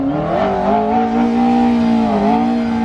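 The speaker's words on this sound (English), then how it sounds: "P1 is revving right here." A McLaren P1 supercar revs at a gathering of more than 200 sports cars, its loud, close engine holding a steady high note that swells and dips slightly without a break.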